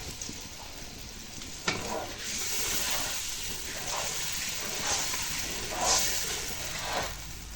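Water goes into a pan of frying curry for a vegetarian mock-fish dish, giving a steady loud sizzle and hiss with several bursts of spattering, and no talk.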